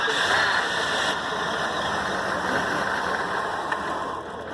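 A car engine runs steadily during fuel pressure testing, giving a continuous close, even idle with a faint broadband hiss and no obvious stumbles.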